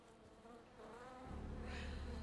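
Bees buzz around bee boxes in the South of Midnight video game, a steady, dense insect drone that swells and grows louder toward the end.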